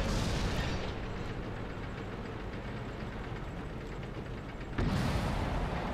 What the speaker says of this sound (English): Having to dodge their artillery this whole time, man.